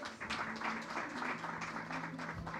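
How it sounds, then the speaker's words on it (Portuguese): An audience applauds a guest speaker at an education talk, with a dense, steady patter of clapping filling the whole stretch alongside a low hum and faint background voices. "Palmas para ele."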